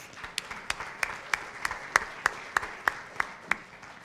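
Sparse, distinct claps sound at a business event for transportation priorities, sharp individual hand claps in a loose, roughly even rhythm, moderately close and fairly quiet over a soft room hum.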